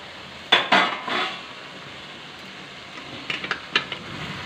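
A pot lid is lifted off simmering mutton korma with a metallic clank, then a spoon scrapes and clinks inside the pot in a few short bursts over a low background sizzle.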